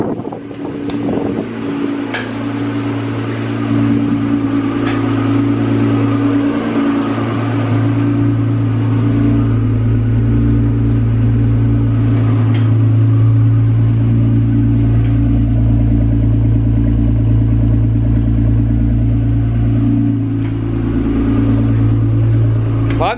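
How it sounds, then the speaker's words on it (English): A Honda NSX sports car engine hums steadily at close range with a low drone and occasional revving, and a voice speaks briefly over it. "He's just gonna drive it like around here in his area so we can see the brakes actually stop."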